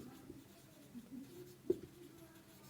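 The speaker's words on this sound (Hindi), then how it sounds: "चलिए लिख देता हूँ" Faint pen or chalk strokes during a chemistry lesson on the law of mass action: soft, scattered scratching with one sharper tap near the middle, quiet and close, with no talking.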